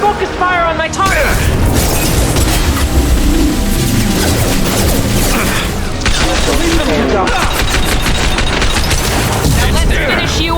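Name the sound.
gunfire in combat, Mass Effect 2 video game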